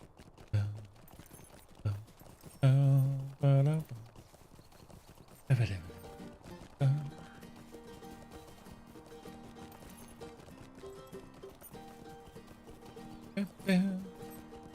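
Hooves clip-clopping as a horse is ridden in The Lord of the Rings Online, heard as scattered hoof thuds and a whinny amid game music and effects.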